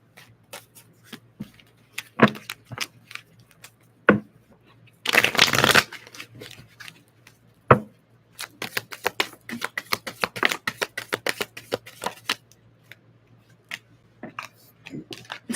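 Tarot cards are shuffled close up in quick flurries of crisp riffling and flicking, with one longer dense burst of shuffling in the middle and sparse card taps and quiet gaps between.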